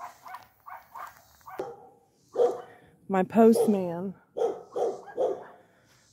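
A dog barks in short sharp bursts near the house, several yaps coming in quick succession between spoken words and mixed with whining.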